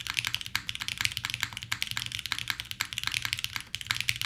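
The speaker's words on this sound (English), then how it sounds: "And here's what it sounds like off the desk as well" Continuous close typing on an O-ring mounted keyboard resting off the desk pad, a dense, even stream of sharp clacky keystrokes with a slightly fuller thud underneath.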